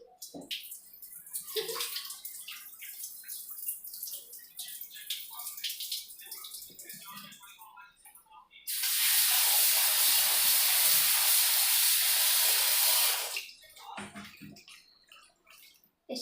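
Water sloshes and splashes briefly as cut potatoes are washed, then a tap gushes loudly and steadily for several seconds before cutting off, followed by more quiet handling and splashing.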